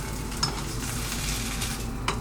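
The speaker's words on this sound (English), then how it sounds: "And now I'm just making the eggs, and I'm putting fried eggs instead of scrambled." Fried eggs sizzle in a pan with a constant crackling hiss and a few light clinks of a utensil against the pan, close and with no talking.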